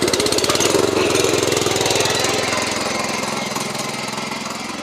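A power tiller's engine runs during a farm demo, producing a steady, loud, rapid chugging throb that holds evenly and fades slightly toward the end, with no talk over it.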